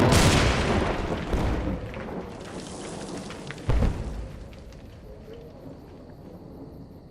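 Frag grenade explosions in a battle scene, a loud booming blast at the start that rumbles and fades, followed by a second heavy explosion midway and a lingering low decay.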